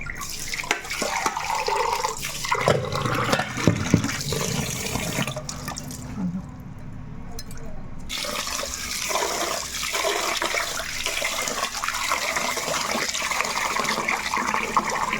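Rice being rinsed by hand in a vessel of water in a home kitchen, with steady running and sloshing water from a tap throughout, close and fairly loud, briefly quieter midway.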